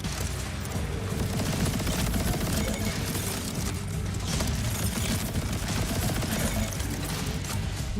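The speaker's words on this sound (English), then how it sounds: "Who's shooting?" Dense gunfire in Borderlands 4, a continuous clattering volley of rapid shots and mechanical rattling that runs steadily throughout at strong level, with no pauses.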